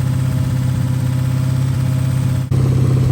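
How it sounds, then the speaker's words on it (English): A rebuilt 426 Hemi runs steadily at fast idle during break-in, a loud, close, deep throbbing rumble with rusty chunks rattling in the exhaust, and a brief dip near the end. "I, for one, like the sound of rusty chunks rolling around in the exhaust."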